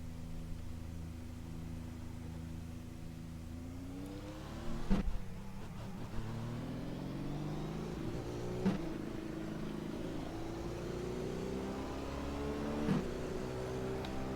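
A McLaren MP4/30 Formula One car in iRacing pulls away from the pit lane, its engine rising in pitch through repeated upshifts, a continuous, moderately quiet whine with brief dips between gears and no talk over it.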